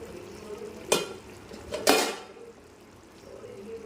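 A spoon stirs quail curry in a pot, two sharp metallic scrapes against the pot about a second apart over a faint simmering hiss, close and fairly quiet.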